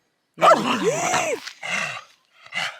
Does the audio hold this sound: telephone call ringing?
no